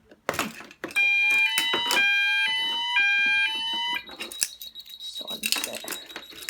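An MB fire alarm sounds during an FX2204 system test, a loud stepping multi-tone electronic pattern for about three seconds before falling to a single steady tone, with clicks and handling noises around it.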